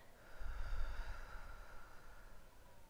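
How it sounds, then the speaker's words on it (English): Slow, steady breathing in through the nose and out through the mouth during a calm relaxation exercise, a soft airy breath rising and fading over a few seconds, close and quiet with no talking. "I close my eyes and I breathe in through my nose and out through my mouth"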